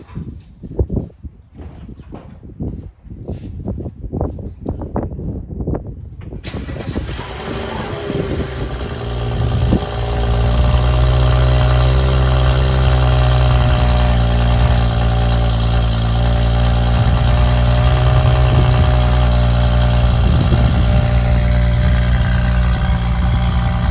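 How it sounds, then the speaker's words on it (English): BMW F10 535i with the N55 engine and an RVG Performance downpipe, starting cold: a few quiet clicks, then the engine catches with a loud flare and settles into a steady, rumbling high idle that fills the rest of the clip. "So now only one thing left, and that is a cold start."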